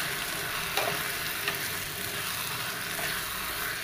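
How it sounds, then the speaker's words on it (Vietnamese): Agar stir-fried in a pan for vegetarian head cheese gives a steady, close, loud sizzle with faint scraping stirs throughout, and no talking. "Mình cho rau câu vô mình xào chừng 3 phút"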